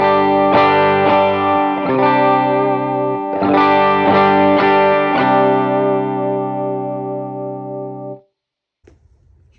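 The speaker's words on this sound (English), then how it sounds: "So let's hear my clean tone without my compressor on." Clean electric guitar through a pedalboard with the compressor switched off and Big Sky reverb, into an amp: several strummed chords ringing out and fading, then silence with faint handling noise.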